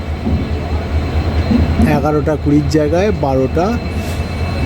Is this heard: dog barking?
no